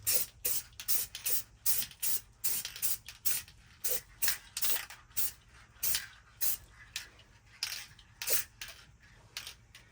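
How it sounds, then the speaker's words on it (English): An aerosol spray can hisses in repeated short bursts, fairly close, with quick pauses and faint clicks between sprays. "we're just gonna spray a coat or two on here"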